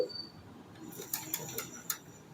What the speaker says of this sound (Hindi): ये इसके मीटर गरारियों की आवाज़ है।